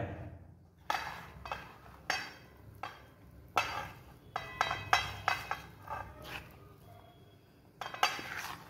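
Butter residue is stirred by hand into a fishing bait mix for catla, with a series of scattered clinks and scrapes of a utensil against a pot or bowl, fairly quiet and irregular, with pauses between strokes.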